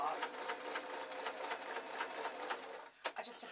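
Sewing machine stitching steadily along the overlocked seam of an unlined, collarless jacket, a quiet rapid mechanical chatter that stops near the end with a few clicks.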